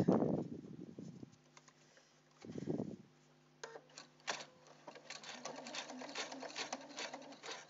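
A sewing machine stitches a parka, first in two short bursts separated by quiet gaps, then running longer at a faster, rattling pace with uneven ticking texture.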